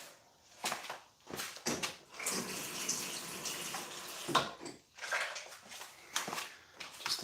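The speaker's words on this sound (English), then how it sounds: "just a little bit of water to get it going." Water runs from a kitchen tap into a pot in a few short, uneven bursts, splashing close by between brief pauses.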